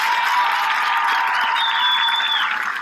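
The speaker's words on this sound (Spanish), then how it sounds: "Señoras, señores, nuestro aplauso para Jeffrey Guzmán" A studio audience on a Saturday-night television variety show applauds a young guest, a steady wash of clapping with faint crowd noise and no talk over it.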